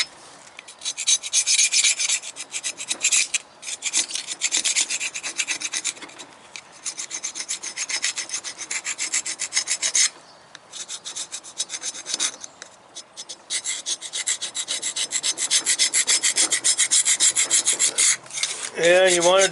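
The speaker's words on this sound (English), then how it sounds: "Got that block cleaned out, or cleaned off on the top just with a regular scraper" A scraper rasps rust and dirt off the top of a 1997 Detroit Series 60 diesel engine block, loud continuous gritty scraping in long strokes with a few short pauses, close to the listener.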